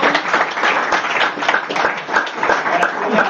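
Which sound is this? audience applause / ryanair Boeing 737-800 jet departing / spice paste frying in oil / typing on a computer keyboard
audience applause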